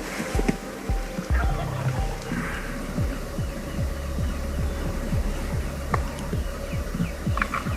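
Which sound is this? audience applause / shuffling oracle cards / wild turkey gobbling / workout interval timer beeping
wild turkey gobbling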